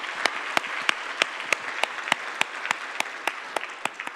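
A church congregation at an Easter service claps in a fairly steady rhythm, roughly three claps per second, moderately close and without talk.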